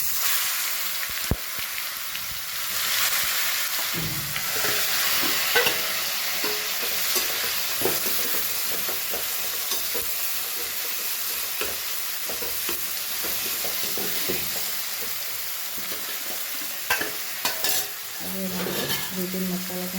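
Tomatoes tipped into a pan of frying cumin and asafoetida, stirred steadily in hot oil, giving a continuous close sizzle broken by repeated scrapes and clinks of the spoon against the pan, with no talking.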